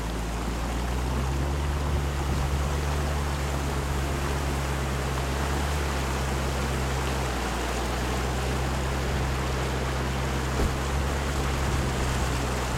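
A 4x4 off-road vehicle driving through water in the Biebrza area, producing a constant loud rush of churning water and surf layered over a low engine drone, steady throughout with no talking.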